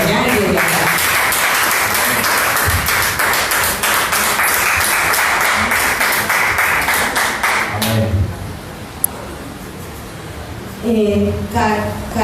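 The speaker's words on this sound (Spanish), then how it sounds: "con un fuerte aplauso al Espíritu Santo desde allá y desde acá" Church congregation applauding loudly and densely for several seconds, then the clapping fades as voices and talk take over near the end.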